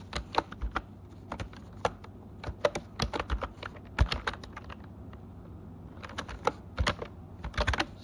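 Keys clatter on a computer keyboard in quick, uneven bursts of soft clicks, close and fairly quiet, with short pauses between runs of typing.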